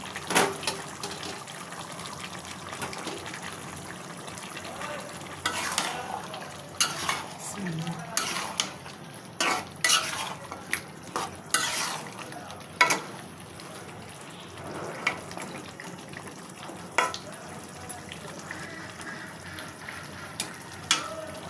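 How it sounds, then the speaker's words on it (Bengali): Chicken pieces being stir-fried in a cooked-down spice masala, with repeated scraping stirs and clattering spoon-on-pan hits over a soft, continuous sizzle, fairly close and without talk. "মশলাটা কষানো হয়ে গেছে, এখন মাংসগুলো দিয়ে দেব।"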